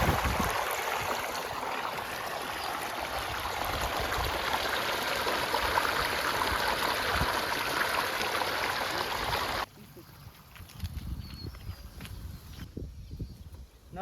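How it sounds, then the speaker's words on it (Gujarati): Water running steadily from a kitchen tap in a village-style kitchen, a continuous broadband rush for most of the clip that cuts off abruptly near the end, leaving quieter room noise. "નળ બંધ કરી દો"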